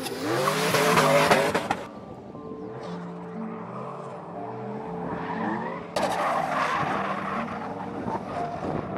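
A race car on track during season testing, a loud skid and squeal of tyres at the start, then engine whine with shifting tones and a second burst of tyre noise later, no talk.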